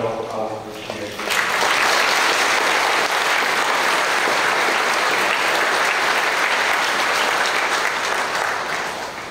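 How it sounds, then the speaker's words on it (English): A church congregation claps during a confirmation Mass, the applause swelling abruptly after a brief quiet start into a dense, steady, evenly sustained roar of many hands that fades only slightly toward the end. "Let us give them a nice round of applause to show our appreciation."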